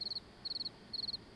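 Game crickets in Morels The Hunt chirp in short rapid trills, three bursts of several pulses spaced about half a second apart, fairly quiet and alone against a hushed backdrop.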